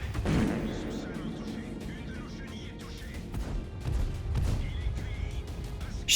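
Artillery shells in World of Tanks land around a light tank as dull, heavy booms and crashes, with a couple of stronger impacts standing out. Someone talks over the game sounds throughout.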